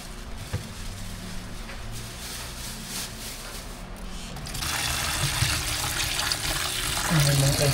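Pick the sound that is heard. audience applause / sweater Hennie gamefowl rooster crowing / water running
water running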